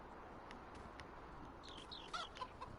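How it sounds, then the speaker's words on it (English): Chickens clucking in the farming video game Farming Simulator 19, faint and distant over steady rain-like background noise, with a few short clucks toward the end. "our chickens are still doing great"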